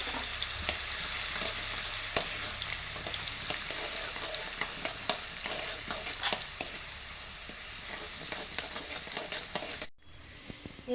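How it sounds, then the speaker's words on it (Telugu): Garlic paste fries in warm oil with a steady, fairly quiet sizzle and crackle, broken by occasional sharper pops and stirring scrapes, close by and with no talk. "ఉరవెచ్చ నూనెలా వెల్లిపాయల ముద్ద వేసుకోవాలి"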